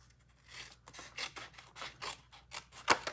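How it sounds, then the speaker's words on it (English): Craft material being cut with scissors in a series of short, crisp snips and rasps, close and fairly quiet, about a dozen cuts in an irregular rhythm with no talking. "Okay, so I'm gonna cut some of this. Let's cut from down here."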